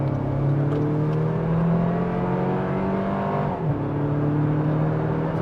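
A 2025 Toyota 4Runner TRD-Pro accelerates out of a corner in sport mode, its engine droning and rising in pitch from inside the cabin, with a smooth gear shift partway through.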